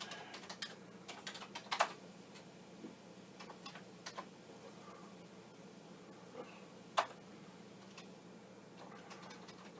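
Keys clatter on a Commodore 64 keyboard in quick, uneven bursts of close, crisp clicks, with a few sharper taps and a steady low hum in the background.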